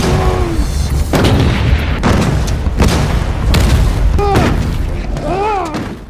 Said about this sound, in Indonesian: Mendengar itu, Vivaldi memerintahkan timnya untuk menembakkan peluru granat ke tim kuning.